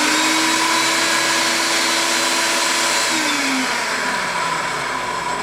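A food processor whirs steadily as it chops onions and parsley for kefta burger meat, a loud continuous motor drone with no talking.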